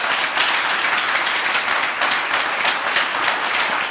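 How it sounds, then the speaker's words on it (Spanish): A church congregation claps loudly for the Lord in a dense, steady roar of applause that lasts the whole stretch without pause. "Denle un fuerte aplauso al Señor."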